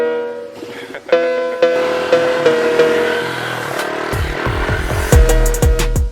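A Ducati motorcycle revs repeatedly as the rider pops a wheelie, with sharp throttle bursts rising and falling close by and rougher, louder blips toward the end.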